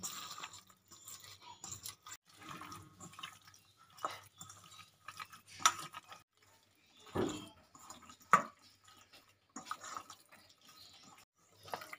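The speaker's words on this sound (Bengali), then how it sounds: "চিকেনটা ভালো করে ম্যারিনেট করে নেব।" Chicken being worked by hand with melted butter and onion, giving soft, wet squelching and dripping sounds in irregular bursts, close and fairly quiet, with no talking.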